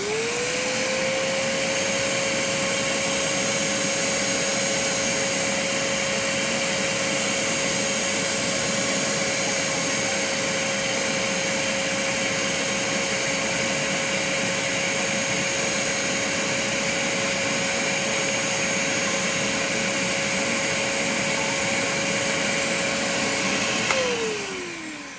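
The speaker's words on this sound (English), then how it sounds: "Vinyl Vac, turning this on." A Vinyl Vac record-cleaning vacuum runs with a loud, continuous whine for about twenty-four seconds, then spins down at the end, close and steady with no talking.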